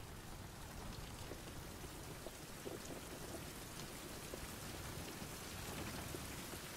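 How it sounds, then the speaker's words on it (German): Steady rain from a survival video game pours down in a dense, even hiss with scattered drop ticks, moderately loud and continuous throughout, with no voices. "Warum sollte es doch nicht regnen?"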